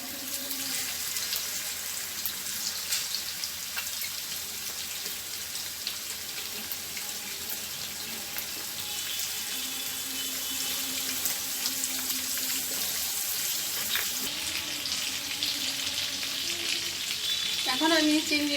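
Giant freshwater prawns frying in soybean oil in a pan, a continuous soft sizzle and crackle with occasional clatter, fairly quiet and close with no talk.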